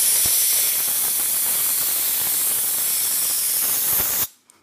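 A can of compressed air blows dust out of a Mac mini fan in one continuous loud hiss lasting about four seconds, then cuts off abruptly into near silence.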